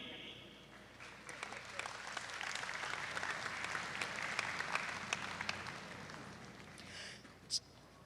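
Warm applause rises from a large audience welcoming foreign guests at a National Day ceremony, a dense sustained patter of many hands that swells and then fades, with a single louder clap near the end.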